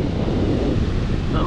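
Surf washing onto a beach under heavy, steady wind buffeting the microphone, a loud continuous roar with no distinct breaks between waves.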